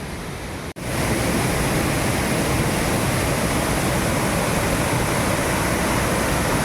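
Saeng Chan waterfall, also called Rue waterfall, in Khong Chiam, Ubon Ratchathani, Thailand, sends up a loud, steady, close roar of falling water. It starts abruptly after a brief quieter moment and continues unbroken, with no voices.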